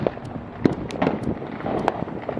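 New Year's Eve fireworks go off in a rapid run of sharp cracks and pops, some close and punchy, others more distant, packed into a busy outdoor crackle.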